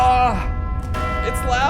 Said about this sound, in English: The bell is completely automated now.